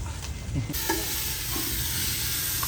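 Onions frying in oil in a pan, a steady close sizzle with light stirring scrapes throughout, no voices over it.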